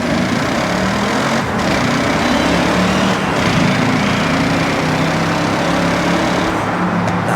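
The stock-exhaust twin-turbo V8 of an Audi RS6 in Forza Horizon 6 pulling under load, a continuous, loud, close engine drone holding steady without breaks.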